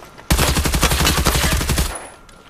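Squad automatic gunfire in the video game Ghost Recon Breakpoint, a loud close burst of rapid shots lasting about a second and a half before cutting off into quiet.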